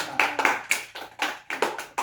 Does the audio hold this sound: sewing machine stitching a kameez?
no